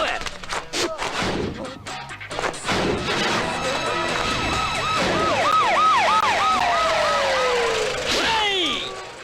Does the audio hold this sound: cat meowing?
no